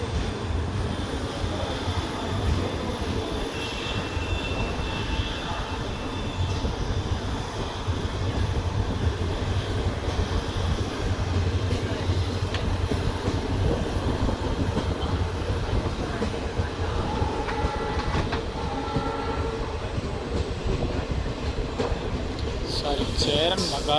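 Unreserved express train pulling out of Cheranmahadevi station on the Tirunelveli–Sengottai line, a steady continuous rumble and rolling rattle of the carriages heard from on board, with a faint squeal near the end.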